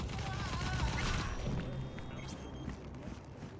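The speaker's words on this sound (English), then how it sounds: "Who is shooting?" Gunfire in Cyberpunk 2077 rattles in a dense burst of shots over a muffled background, loud at first and then tapering to scattered fainter pops, with game voices faintly underneath.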